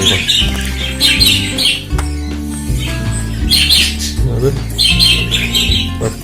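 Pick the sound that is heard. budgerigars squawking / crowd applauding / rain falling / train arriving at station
budgerigars squawking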